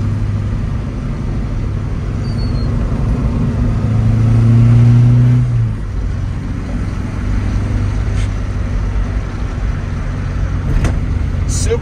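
A 1967 Alfa Romeo Giulia GT Veloce on Nitto tyres takes a 30 mph S-turn, its engine droning loud and steady from inside the cabin and swelling briefly with a rise in revs mid-run.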